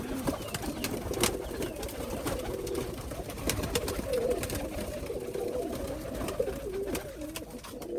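Rajshahi Giribaz pigeons coo in a loft, with soft repeated low calls continuing throughout among faint clicks and shuffling.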